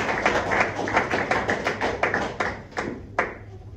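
Congregation clapping in a church service, a run of about a dozen sharp, fairly close hand claps in a loose steady rhythm, slowing and thinning out toward the end.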